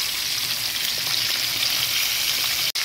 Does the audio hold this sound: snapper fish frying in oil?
yes